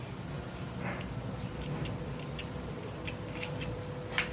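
Scissors snipping yarn while finishing a crochet houndstooth raglan sweater, a few faint, quick, close cuts over a low background hiss.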